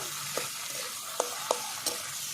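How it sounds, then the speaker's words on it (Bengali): Mashed yardlong beans sizzle gently in a pan while a spatula scrapes and turns them, making four or five sharp clicks over a continuous low fry, no talking. "বরবটি ভর্তা এইভাবে উল্টিয়ে নিতে হবে যাতে না লেগে যায় ভালো করে আমি এইভাবে নেড়ে নেড়ে"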